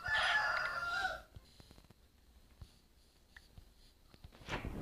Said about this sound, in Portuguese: Outra galinha aqui.